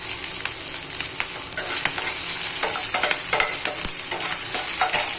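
Carrots stir-fry in a pan along with cabbage for a pasta dish. Loud close sizzling runs throughout, broken by repeated scraping and stirring strokes of a spatula. No voices are heard.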